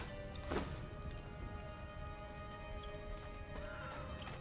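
A horse in the video game Conan Exiles neighs once, close and loud, with clip-clop hooves and game ambience continuing behind it.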